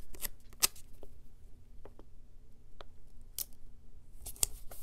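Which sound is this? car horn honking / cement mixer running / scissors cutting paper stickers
scissors cutting paper stickers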